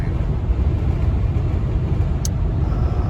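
A Lincoln Town Car Signature Series cruises at steady speed on cruise control, giving a constant low road rumble and tire roar heard from inside the cabin. One faint tick stands out briefly near the end.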